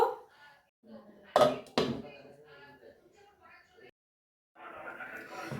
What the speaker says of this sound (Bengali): এখন একটু কিছুক্ষণের জন্য আমি ঢাকা দেব